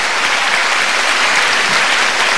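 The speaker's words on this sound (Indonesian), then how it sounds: "Tepuk tangan dong Pak Sultan." Studio audience claps loudly and continuously, a thick, even roar of applause filling the space without a break.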